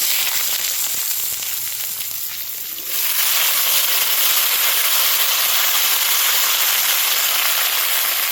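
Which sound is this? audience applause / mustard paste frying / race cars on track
mustard paste frying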